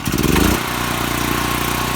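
A Honeywell 0060371 portable generator engine runs after a choke repair, revving briefly and then settling into a steady, loud, close idle.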